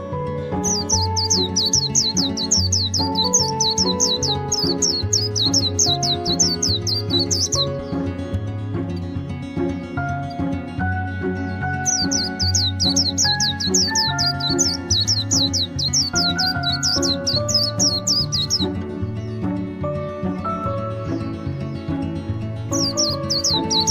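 Birds in the Amazon rainforest squawk and chirp in rapid bursts of repeated calls during fights over mates and territory, loud and close, pausing for a few seconds between bursts over a steady music bed.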